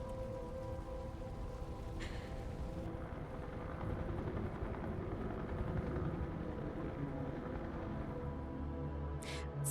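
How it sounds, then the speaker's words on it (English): A video game helicopter arriving, its steady rotor drone blending with rain-like noise throughout, with a couple of brief higher bursts standing out; no voices. "It's funny how in this one, the helicopter arrives faster."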